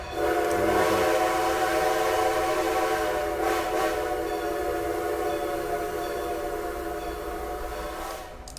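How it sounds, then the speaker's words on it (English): A train passes nearby with a long, steady horn blast sounding loud and close, slowly fading as it moves away. "Another train. Did you hear another one?"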